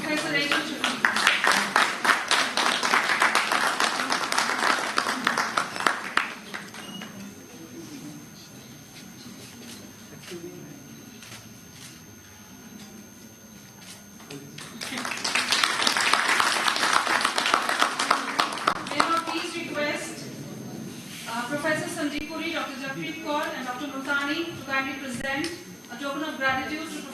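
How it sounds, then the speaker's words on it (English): An audience at an academic honoring ceremony breaks into two long bursts of clapping, dense and sustained, separated by a quieter stretch, with a voice speaking over the hall toward the end. "A big round of applause for Professor Rachel Sheffield."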